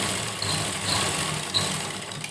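A sewing machine runs continuously in close, even whirring while stitching the seams of pyjamas, with no talk over it.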